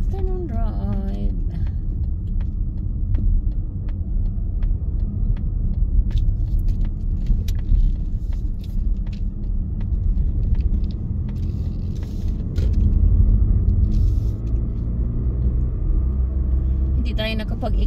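A car drives along a road on a Monday afternoon in Australia, its low engine rumble and tyre noise steady throughout, the cabin drone swelling slightly near the end.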